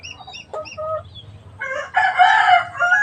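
A mother hen and other fowl on a small farm, a few short clucks and calls at first, then a louder burst of rooster-like crowing close by.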